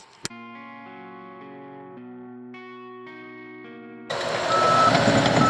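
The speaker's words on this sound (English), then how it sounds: "Now they're setting off alarms" Construction truck reversing alarm on a road job site, sounding a sustained electronic tone that holds steady, then gives way to a loud broadband rumble of heavy machinery.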